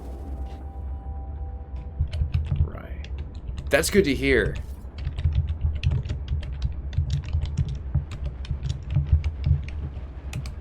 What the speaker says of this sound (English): I just noticed when I type sometimes it's like pretty loud